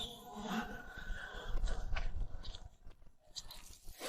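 Someone bites into crisp deep-fried locusts, giving a few sharp crunches and chewing sounds close to the mic, with quieter stretches between bites and no talking.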